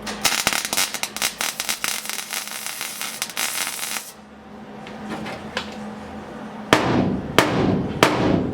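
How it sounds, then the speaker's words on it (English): A tack weld joins a patch panel to the rusty floor of an old pickup: a dense, loud crackling burst of about four seconds, then quieter stretches broken by a few sharp metallic knocks near the end. "So I'm gonna put a tack on there and I'm gonna hit it."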